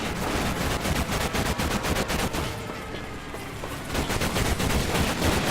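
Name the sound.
machine gun fire in video game Medal of Honor Pacific Assault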